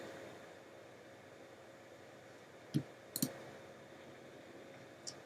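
A computer mouse clicks a download button on a quiet desk, giving two quick sharp clicks close together followed by one more faint click a moment later.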